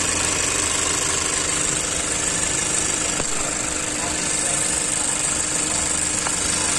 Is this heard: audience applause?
no